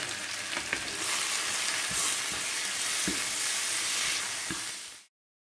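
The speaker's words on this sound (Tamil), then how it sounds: "இதை இப்படியே ஹை ஃப்ளேமில் வச்சு ஒரு 5 நிமிஷம் நல்லா வதக்கி எடுங்கோ" Squid with turmeric, salt and Madras curry powder sautéing in a pan over a high flame, a steady loud sizzle and fry with occasional stirring knocks, no voices.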